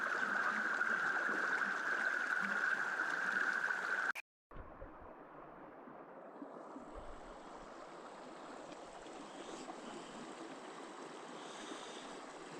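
River water flows steadily around a gold sluice in Scotland, a close, constant rushing wash that cuts out briefly and then resumes with a softer, hissier tone.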